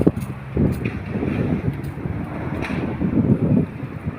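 Strong wind gusts across an open field where kites are being flown, a steady, rough rumble buffeting the microphone throughout with a few sharp crackles, loud and close.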